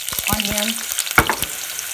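Onions drop into hot cooking oil in a sufuria and start frying, a close sizzling crackle with several short knocks and scrapes of a spoon, no talk.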